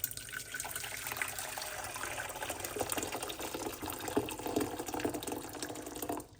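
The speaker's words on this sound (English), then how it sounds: "I'm going to start the progress with hot water." Hot water pours steadily into a container for about six seconds, a continuous splashing gush that stays fairly close and even before cutting off at the end.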